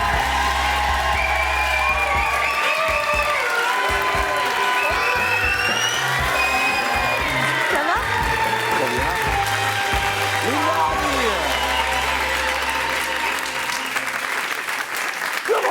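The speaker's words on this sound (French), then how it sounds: "je voudrais que l'on fasse un tonnerre d'applaudissements" A French television studio audience gives a long, dense burst of applause and cheering as a guest arrives on set, with music playing underneath and voices calling out throughout.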